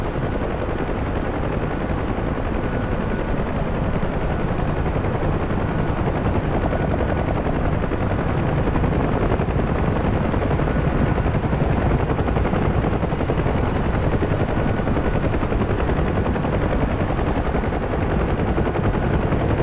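A Chinook helicopter in the DCS combat flight simulator gives a loud, unbroken rotor and engine drone that stays steady and close throughout, with no voices.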